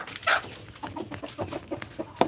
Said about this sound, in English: Let's feed the chickens